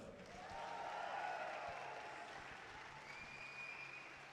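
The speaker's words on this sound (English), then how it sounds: "Give them one more round of applause" A live audience at a bouldering competition claps for the climbers, a sustained, fairly faint wash of applause that swells and then holds steady, with a thin whistling tone riding over it.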